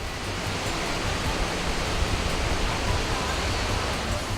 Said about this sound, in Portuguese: Esta é a Cachoeira Véu de Noiva, um imenso cinturão de águas ávidas por aventura, que se jogam das rochas a uma altura de 80 metros.